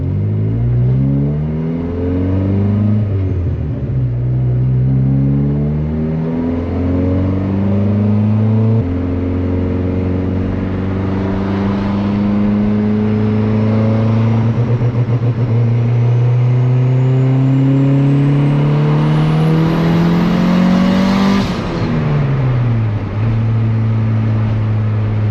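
Turbocharged Honda Civic with anti-lag, engine revving steadily for about 25 seconds, with loud harmonic tones that climb and fall through the RPM range and a brief sharp rise near the end. No talking.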